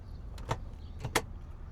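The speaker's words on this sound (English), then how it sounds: "this is how you roll up the window" Two quick mechanical whirs of a 1956 Corvette's window being rolled up, close by, in a quiet interior with a low rumble underneath.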